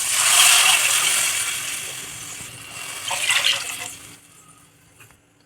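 Water pouring into a pan for semiya pulao, a loud steady rush that fades and then briefly swells again before dying away near the end.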